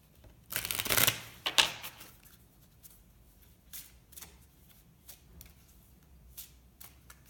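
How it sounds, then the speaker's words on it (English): Crystal oracle cards rustle and slide briefly as one is pulled from the deck, a short flurry of papery shuffling up close followed by a few faint soft taps. "I'm going to pull a card from the crystal deck"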